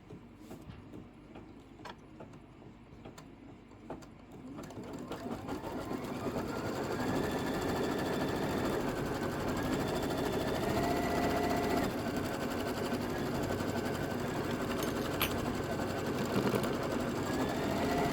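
Embroidery sewing machine stitching a tack-down line over foam on a bunny-embellished bench pillow, starting quietly then settling into a steady, continuous close hum with rapid needle rhythm for most of the clip.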